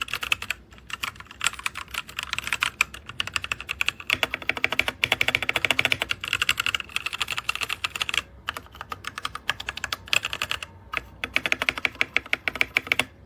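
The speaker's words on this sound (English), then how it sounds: "This is a review on this keyboard. So this is how it sounds." Typing on a DIERYA T68SE compact 60% mechanical gaming keyboard produces rapid, crisp clicky keystrokes in uneven bursts with brief pauses, close and clear, with no talking.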